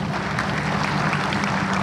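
Audience at a political speech applauding, a steady patter of many hands clapping at moderate level, filling the whole short stretch with no voice on top.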